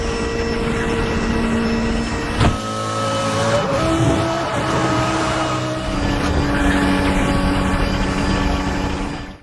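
Car engines in the racing video game Need for Speed: The Run drone and whine steadily throughout, with a sharp burst partway through and shifting pitch as the cars rev.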